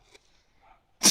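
A single abrupt, breathy sneeze from a hedgehog bursts out at the end, close and loud after faint quiet murmurs.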